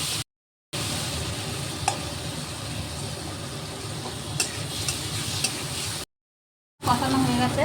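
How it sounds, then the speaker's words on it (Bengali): Spices with salt and Kashmiri chilli powder being fried and stirred in oil, a dense, steady sizzle heard close with soft stirring knocks, broken by two short silent gaps. "এবার আমি মশলাটা ভালো করে তেলের সঙ্গে কষিয়ে নেব।"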